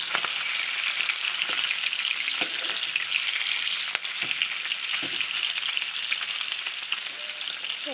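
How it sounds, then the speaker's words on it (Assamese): Fish frying in a small amount of oil for a sour gaj tenga fish dish, a steady dense sizzle with occasional spatters and faint stirring clicks, close and continuous with no talking. "মাছখিনি এতিয়া মই ধুনীয়াকৈ ফ্ৰাই কৰি ল'ম"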